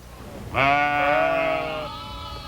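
A single sheep lets out a long, wavering bleat, close and clear, trailing off after a second or so.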